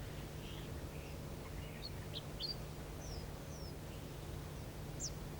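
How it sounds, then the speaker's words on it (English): Crimson chats and their chicks make scattered thin, high chirps and short whistles, faint and fairly distant, over a steady low hum and rustling background. "Here, a crimson chat with its chicks."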